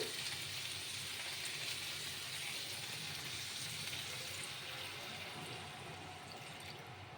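Water poured into a simmering fish and cauliflower curry (katla kalia with potato), a steady broad hiss of liquid and sizzle running evenly throughout, close and moderately loud, with no talk.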